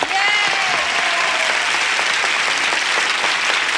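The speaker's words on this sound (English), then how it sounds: "Would you join me in applauding Kitty Soper and May Kita Soul?" A 1981 game show studio audience claps loudly and steadily throughout, a dense, even wash of applause with crisp individual claps near the front.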